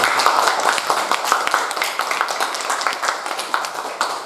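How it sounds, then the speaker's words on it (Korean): Welcoming applause from a church congregation during a worship service, dense steady clapping from many hands filling the room without pause, fairly loud and close. "우리 이상일 집사님 환영의 박수 한번"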